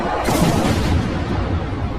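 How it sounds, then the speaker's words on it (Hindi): A huge explosion as an object crashes down from the sky in a Thor film, a loud booming blast followed by sustained rumbling roar and debris noise, with no talk. "जैसे ही वो यहाँ पे आके गिरती है वहाँ पे एक जबरदस्त किस्म का धमाका होता है।"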